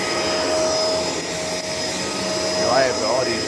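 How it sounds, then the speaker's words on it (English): A Shark LA702 vacuum cleaner running with a steady, loud motor whine and airflow roar, a faint voice surfacing near the end. "this is a really good vacuum"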